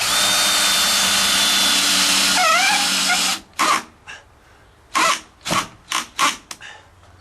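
A power drill set to low speed drives a screw into wood trim. A steady loud whirr runs for about three seconds, then a string of short, sharp bursts follows as the screw is seated.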